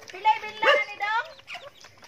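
Chickens cluck and squawk in short bursts, with voices talking nearby.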